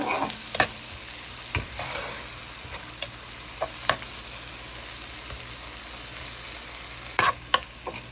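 Onions sizzle in a pan as a porgy fish curry is prepared, a continuous hiss with occasional sharp scrapes and taps of a spatula at irregular moments, close and fairly quiet, no voices.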